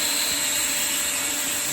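A vacuum cleaner sucks coolant from the header tank of a Mercedes ML350 during a thermostat housing replacement, a steady close whine with airy hiss that does not change.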